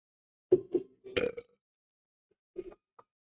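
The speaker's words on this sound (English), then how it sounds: "I wasn't trying to make it the biggest burp ever" A young man lets out a series of loud, close burps after drinking something carbonated: three bursts in quick succession, then a shorter one and a small final gulp, with no talking.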